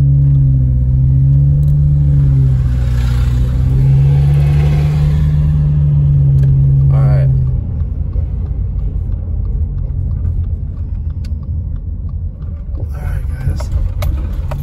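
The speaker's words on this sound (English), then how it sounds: "I gotta wait for cars to freaking pass." Cars passing on a mountain road near Big Bear, California, after recent snowstorms, heard as a loud steady engine drone with a low hum that cuts off midway, leaving a quieter road rumble and faint scattered noises.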